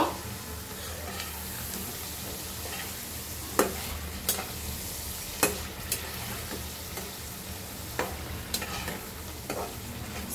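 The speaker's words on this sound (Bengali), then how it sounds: "এই যে মাছটি দিয়ে দিব এখন, একটু কষাই নিব।" Fish fries and is stirred in a pan, a steady close sizzle with occasional sharp scrapes and knocks of the spoon against the pan; no talking is heard.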